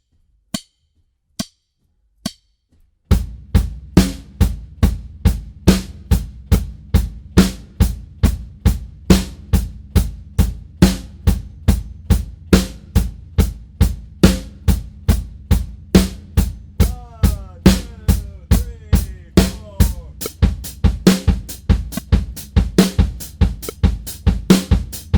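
Drum kit demonstration of alternating 16th notes: after a few single count-in hits, a steady, even stream of sharp strokes continues throughout, loud, close and without talk.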